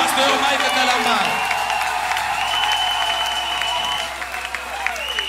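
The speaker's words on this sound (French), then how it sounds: "Sous les acclamations" Loud, sustained applause from a large stadium concert crowd welcoming a pastor, with whistles and cheers rising over the clapping before it tapers slightly at the end.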